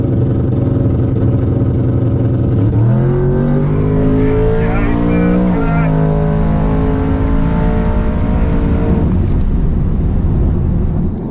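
A 972HP Redeye Charger and a twin-turbo 66mm 6.0L LS Foxbody drag race flat out, a loud, close engine roar with rising pitch sweeps through the gears that fades toward the end, with a voice talking over it.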